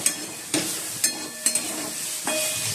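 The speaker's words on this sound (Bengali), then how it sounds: "এই যে বন্ধুরা, উচ্ছে আলু ভাজা হচ্ছে।" Bitter gourd and potatoes fry in oil, giving a steady, close sizzle punctuated by four or five distinct clacks of a spatula turning them in the pan. No one speaks.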